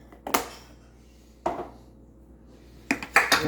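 A spoon or whisk knocks against a mixing bowl while unsweetened cocoa batter is stirred, a few separate clinks and scrapes with quiet gaps, ending in a quicker cluster of taps.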